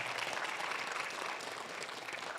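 Church congregation applauding during a sermon, a steady, dense wash of clapping from many hands, sustained and fairly close throughout.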